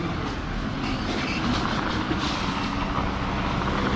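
A concrete truck arrives at a backyard inground pool build, its heavy engine rumbling steadily and close with a broad mechanical drone and brief hissing bursts like air brakes; no one speaks.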